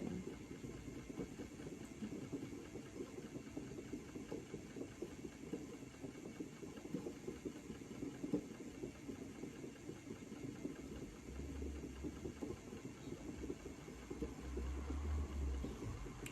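An old Ashford E-spinner electric spinning wheel runs steadily throughout, a quiet, continuous low motor hum and whir with faint rhythmic texture, with no talking.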